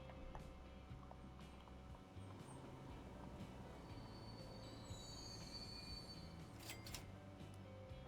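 Default train sounds from the video game Transport Fever 2: a steady, continuous rumble of rolling rail cars with occasional high wheel squeals, heard alone without talk.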